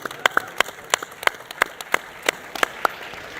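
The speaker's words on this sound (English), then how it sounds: "Let's give Richard another round of applause" Sparse, sharp claps ring out at a crypto conference for a speaker named Richard, a handful of distinct, fairly evenly spaced hand claps rather than a dense crowd ovation.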